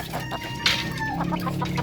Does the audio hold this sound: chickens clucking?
yes